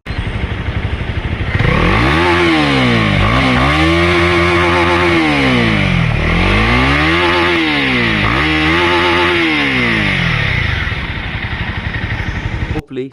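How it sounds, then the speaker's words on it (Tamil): A 2025 Honda CB300R exhaust revs hard and repeatedly, the pitch sweeping up and falling back in several loud rising-and-falling pulls over a steady rumbling idle. "அதோட சைலன்சர் நோட் கேளுங்க"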